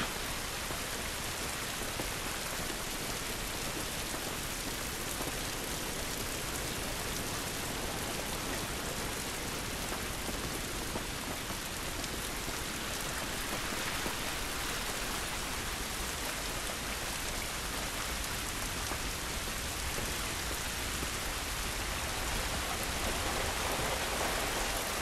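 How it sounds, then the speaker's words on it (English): Steady rain pours down outdoors in The Last of Us, a dense, even hiss of drops on surfaces that runs unbroken and fairly close for the whole stretch, with no voices. "This rain ain't gonna do us any good."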